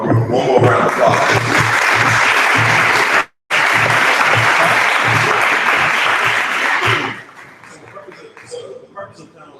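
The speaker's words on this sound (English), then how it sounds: "Let's give it kind of one more round of applause." Evening diversity and inclusion talk audience giving sustained applause, dense clapping with a brief cut, then fading to scattered claps and a voice near the end.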